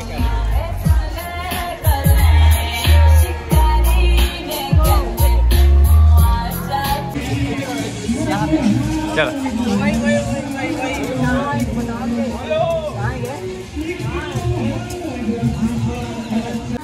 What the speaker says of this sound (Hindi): बहुत ही भीड़ है शायद कुछ